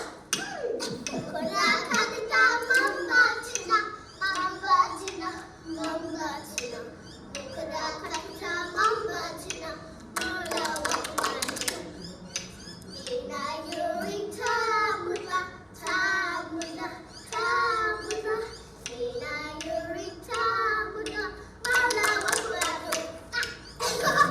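Hands clap along in bursts while children sing a simple tune, the claps landing in short rhythmic clusters between sung phrases.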